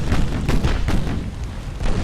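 Heavy naval shell impacts in the warship battle game Ultimate Admiral: Dreadnoughts, a continuous rumbling barrage of deep booms and bursts, loud and close with no talk.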